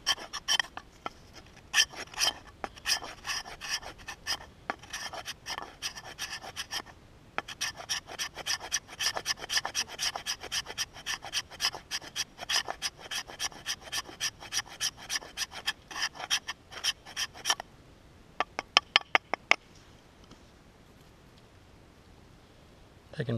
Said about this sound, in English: I can scrape you some nice fine flammable stuff like that.